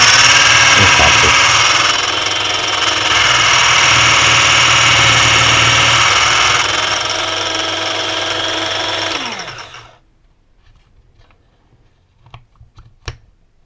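A Parkside bench drill bit sharpener runs with a steady loud motor whine while grinding a drill bit, then spins down and stops, leaving quiet scattered handling clicks afterward.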